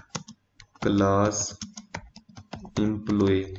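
Keys on a computer keyboard click in short bursts between a man's speech as a command is typed in a terminal for an Angular project.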